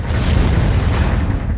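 A loud, deep explosion roar, a dense low rumble that fills the whole moment without fading.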